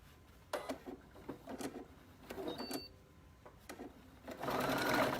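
Sewing machine stitching decorative tassel trim along the top edge onto a jeans hem, running in several short bursts that end in a longer, louder stretch of stitching, close by and without talk.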